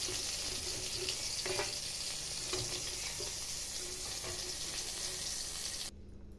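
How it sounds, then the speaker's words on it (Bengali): Bay leaf, dried chili and cumin seeds crackle and sizzle in hot oil for a vegetarian bottle gourd and soybean dish, a steady close frying hiss with a few sharper pops, cutting off near the end. "তেলের মধ্যে তেজপাতা আর শুকনো লঙ্কা ফোড়ন দিয়েছিলাম, এবার একটু জিরে ফোড়ন দিয়ে দিলাম"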